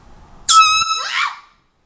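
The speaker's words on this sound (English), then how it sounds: "I'm gonna wake her up politely with an air horn" One short, loud blast of an air horn sounds up close, followed immediately by a startled high-pitched cry.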